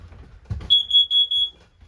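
A wall-mounted carbon monoxide alarm in a 2018 Heartland Prowler 285LX travel trailer emits four shrill, evenly spaced electronic beeps, loud and close, after a brief low thump.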